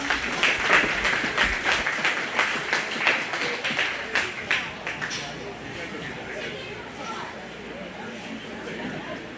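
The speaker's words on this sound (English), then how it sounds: "Go ahead and give all of these four kiddos a big round of applause" An audience at a 4-H/FFA goat show gives a round of applause for four young exhibitors, brisk clapping that is loud at first and then thins and fades, with voices over it.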